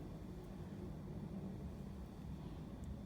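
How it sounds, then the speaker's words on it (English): An airplane flies over at a distance, producing a steady low, broad rumble that holds evenly through the stretch with no one speaking. "I apologize if you hear the airplane going by."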